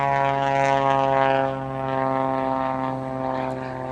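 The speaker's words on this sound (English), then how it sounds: "I'm gonna wave at all the planes that are loud." A loud airplane passes overhead with a steady droning engine and propeller tone, swelling and easing slightly over a few seconds at a campsite, with no talking.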